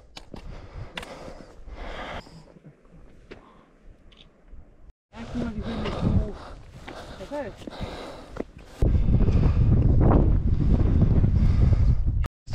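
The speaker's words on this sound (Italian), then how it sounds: "butta di vento a bestia" Strong wind on a mountain ridge during a via ferrata hike on Monte Sumbra roars loudly across the microphone in heavy buffeting gusts, with a sudden surge near the end and a person talking over parts of it.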